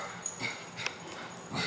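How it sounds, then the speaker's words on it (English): A dog gives a couple of short, faint yips and whimpering barks, distant and brief, in a workshop where an AE86 rear axle is being assembled. "There's an angry dog."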